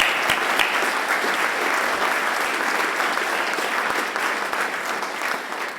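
An awards-night audience at the Golden Whistle Awards claps steadily throughout, a dense even wash of applause with no talking.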